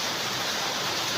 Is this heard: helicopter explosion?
no